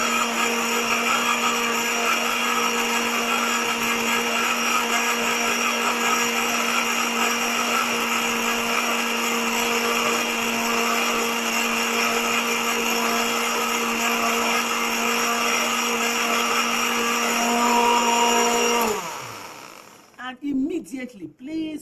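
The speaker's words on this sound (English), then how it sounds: "now you are going to blend on high speed for about 2 minutes" A blender runs at high speed on cabbage, carrot and beetroot, a loud, steady motor whine lasting about nineteen seconds before it winds down and stops, leaving brief faint clatter.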